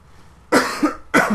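Two sharp, loud coughs close to the microphone, separated by a brief pause.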